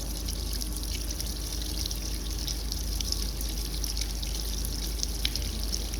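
Water flushing out of the outlet of a combination air valve during servicing, a steady broadband rushing and splashing that runs continuously at moderate level with no talk.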